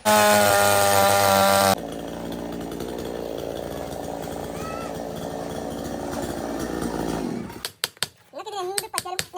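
A cutting machine works through an areca palm trunk, first a sharp, loud whine, then a steady, grinding motor drone that cuts off near the end, after which people talk.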